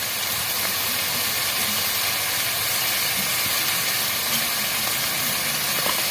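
Pointed gourd curry sizzling in a pan as it is stirred, a loud, dense, unbroken hiss close up, with faint low scraping beneath and no talk.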